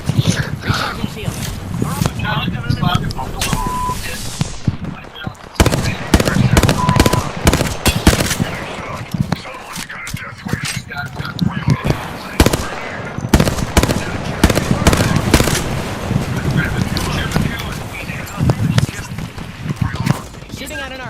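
Rapid bursts of automatic gunfire in a video game shooter, loud and near, with repeated volleys across the whole stretch and a voice talking over the shooting.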